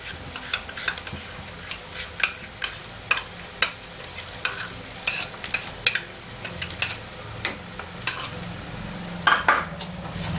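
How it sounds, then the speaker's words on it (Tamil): Garam masala paste frying for mutton ghee roast: a steady sizzle runs throughout, punctuated by sharp ticks and scrapes of a spoon stirring against the pan at an irregular, fairly quick pace. "சேர்த்து நல்லா ஃப்ரை பண்ணுங்க."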